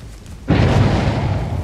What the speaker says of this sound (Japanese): 発電機が爆発したわね